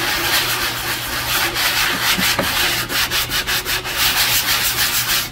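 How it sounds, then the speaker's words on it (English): Sandpaper rubbed over a painting canvas to knock down bumps, a close, loud, continuous scratchy rasp with rhythmic back-and-forth strokes, no talking. "So what I typically will do for these is kind of just sand them down a little bit."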